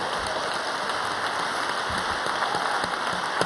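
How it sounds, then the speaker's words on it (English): Applause from a large audience at a human rights plenary session of a youth summit; a steady, even wash of many hands clapping continues throughout, moderately loud and unbroken, without any speech. "I will take that applause"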